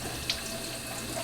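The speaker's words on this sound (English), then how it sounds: "It's important to wash the apples before we start." Tap water runs steadily into a sink while apples are washed, a short, faint, even rush of water.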